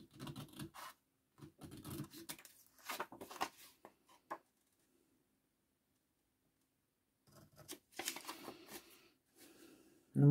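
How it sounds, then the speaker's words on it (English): Scissors cut out a packaging template, giving close, intermittent snipping and paper-rustling bursts, then a long silent gap before another run of cutting. "Cut it out nice and neatly."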